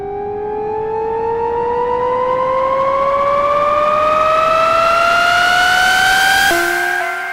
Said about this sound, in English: we should be hearing this sort of very cool sort of stereo effect going on